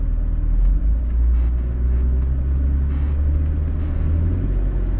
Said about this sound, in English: blip the throttle as you're riding the clutch to kind of roll you forward